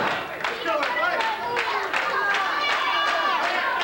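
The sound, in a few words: wrestling crowd cheering for Billy Travis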